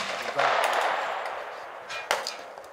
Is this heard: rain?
no